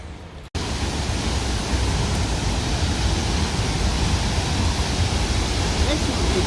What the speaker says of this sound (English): check out that waterfall, guys.